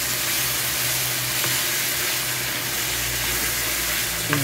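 Prawns sizzle in a pan while being mixed with chili paste, tomato sauce, sweet chili sauce and soy sauce. A steady, close hiss carries a few faint stirring knocks throughout.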